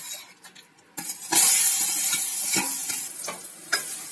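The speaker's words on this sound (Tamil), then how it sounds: "இதை நல்லா அந்த நெய்யிலே கிண்டி விடுங்க." Mashed banana stirred in ghee over a low flame for banana rava laddu, frying with a steady sizzle and scraping stir strokes after a quieter start, close and continuous.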